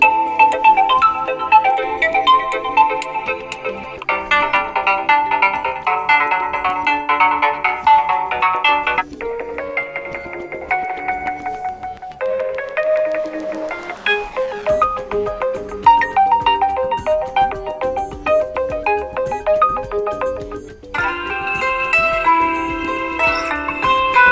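A Realme Q2 phone plays a series of ringtones one after another, bright melodic chimes and electronic tunes that switch every few seconds, loud and close with no talk.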